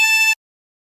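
A chromatic harmonica draws on hole 7, giving one bright, reedy held note that is already sounding at the start and stops abruptly after about a third of a second, followed by silence.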